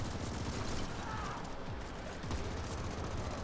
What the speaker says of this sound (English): there's a turret going to town on us